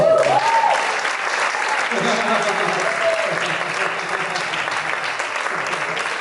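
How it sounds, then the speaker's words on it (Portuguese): Steady, dense applause fills a church congregation at an anniversary celebration, loud and continuous from start to finish, with a voice briefly heard over the clapping near the beginning. "Aplauda Jesus aí."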